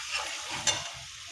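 Chilli and homemade masala sizzle steadily in hot oil, with a continuous frying hiss and one brief pop partway through.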